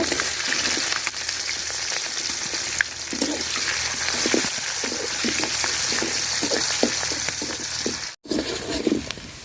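Onions and chili sizzle in hot oil in a pan for a fish, new potato and tomato curry, a steady bright frying hiss broken by frequent clattering stirs and a brief dropout near the end.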